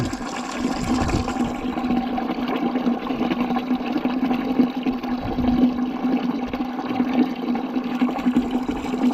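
Antifreeze coolant draining from a Super W6TA tractor, a steady gushing trickle of liquid pouring out continuously at close range, alone without talk.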